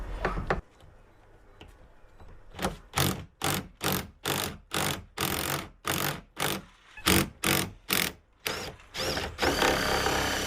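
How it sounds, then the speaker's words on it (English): A bolt is wound into a fuel tank fitting with a power tool during a larger 70L tank retrofit on a Corrado TDI, giving a series of about a dozen loud, evenly spaced whirring bursts after a brief start. "And I'm just going to wind that in."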